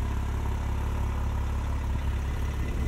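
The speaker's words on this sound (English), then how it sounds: "Valved exhaust." A 2024 Porsche 718 Cayman GTS 4.0 with valved exhaust idles, a low, steady rumble held quietly and evenly throughout without any revving.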